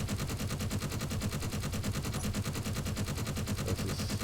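A turret gun in the space game Space Engineers fires a rapid, unbroken stream of automatic shots, loud and evenly spaced for several seconds with no talking.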